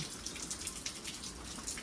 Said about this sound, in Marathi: एकदा धुवून घेतली आपण आणि आता पाण्यात टाकली